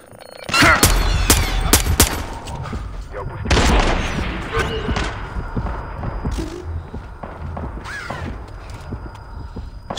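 Sniper rifle shots and heavy gunfire in the stealth shooter Splinter Cell Blacklist, sharp loud cracks and booms bunched in the first few seconds, then a rumbling, busy tail with game noise and voices beneath.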